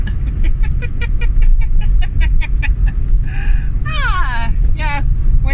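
A 1986 Fox body Mustang convertible is driven with a loud, steady low engine rumble and road roar heard from inside the car. Rapid ticking chirps sit on top of the noise, and brief rising whines follow near the end.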